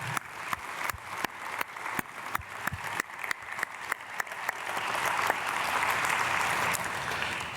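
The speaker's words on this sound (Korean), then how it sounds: "우리 크게 박수로 환영하겠습니다." A church congregation applauds in welcome at a Sunday worship service, beginning as scattered sharp claps that build into steady, dense applause filling the room.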